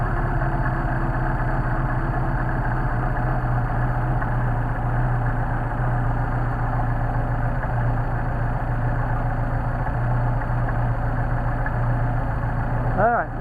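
A Mercedes-Benz 190SL engine with Solex carburetors idles steadily at a low, even rumble, close and continuous, with no talking.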